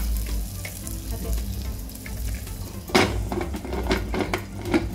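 Popcorn cooks in butter in a pressure cooker, a steady close sizzle with metallic pot and lid clatter and a sharper clink partway through, without talking.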